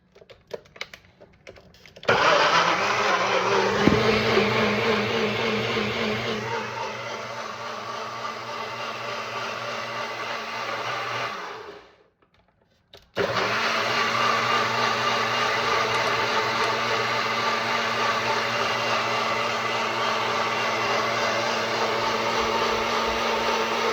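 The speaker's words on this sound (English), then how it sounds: "So put it on the blender." A kitchen blender purees tomato dip for challah bread with a loud, steady whir for about ten seconds. It cuts out briefly, then restarts and runs evenly for another ten seconds.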